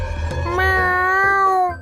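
A cat gives one long, loud meow that rises and then falls in pitch. It sounds close and clear, with some low background rumble at the start.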